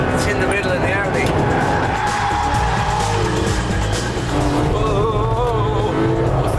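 Audi R8 and Porsche Carrera 4S lapping a track, the Porsche rear-engined and the Audi mid-engined, engines droning steadily with rising and falling revs and a hint of tyre squeal under continuous talk.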